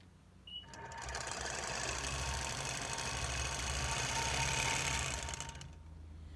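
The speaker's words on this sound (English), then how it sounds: "I'm going to sew for just a moment and then I'll talk again." A sewing machine stitches along a basted quilt edge in one continuous run of fast, even mechanical whirring that starts abruptly, holds steady for about five seconds, then stops, close and alone.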